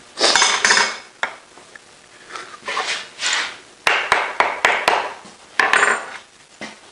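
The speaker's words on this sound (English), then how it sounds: "I'm gonna take this plate off." Metal plate being worked off a Pratt & Whitney engine, with repeated clinks, scrapes and sharp taps of metal tools and parts, arriving in irregular bursts, close and fairly loud.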